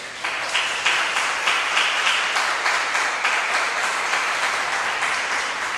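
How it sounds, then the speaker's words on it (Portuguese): A church congregation breaks into sustained, dense applause, many hands clapping together at a steady loud level throughout, with no talking over it. "Dê um aplauso a Jesus."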